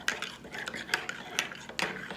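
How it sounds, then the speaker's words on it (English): A spoon stirs turmeric tea (golden milk) in a cup, giving several light, close clinks and scrapes at an irregular pace, fairly quiet. "Mix in the tea."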